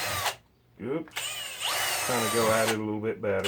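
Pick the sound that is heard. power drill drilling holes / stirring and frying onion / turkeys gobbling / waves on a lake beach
power drill drilling holes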